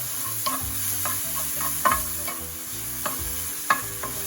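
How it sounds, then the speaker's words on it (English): Chopped onion fries in a pan for Japanese omurice, a soft steady sizzle broken by several sharp clinks and scrapes of a utensil stirring at an uneven rhythm. "you want to cook the onion until it turns to a nice golden color"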